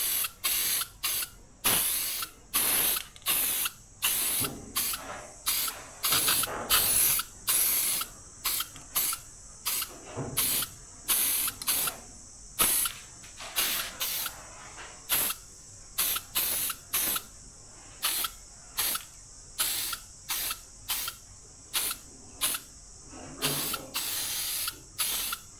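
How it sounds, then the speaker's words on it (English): An aerosol can sprays undercoat onto a handmade 320mm mullet swimbait lure in short repeated bursts of close, sharp hissing separated by brief pauses, with no talking. "I'm just going to give it a undercoat"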